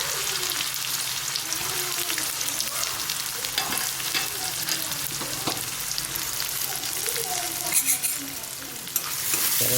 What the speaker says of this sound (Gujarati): એના અંદર નાખીશું આપણે ઝીણી સુધારેલી ડુંગળી